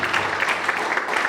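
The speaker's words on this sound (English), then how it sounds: "Please give a big round of applause for the Toastmaster Anant Iyer." A club meeting audience claps steadily for a Toastmaster, a dense continuous patter of many hands with no pauses, fairly close.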